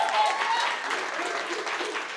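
Audience applause for Danielle at a real estate agents' mastermind gathering, a steady wash of clapping that holds at moderate level for a couple of seconds with a faint voice or whoop underneath.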